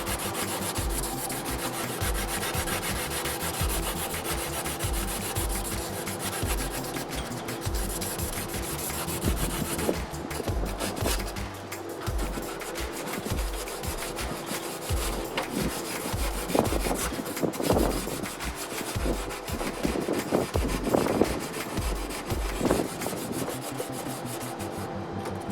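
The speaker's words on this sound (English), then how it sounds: "180. I'm gonna sand it down." Steady back-and-forth rasping of 180-grit sandpaper worked by hand over a Baja-style truck fender on a Toyota Tundra, continuous and close, with occasional sharper scrapes and no talking.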